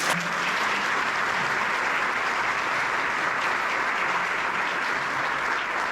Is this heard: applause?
yes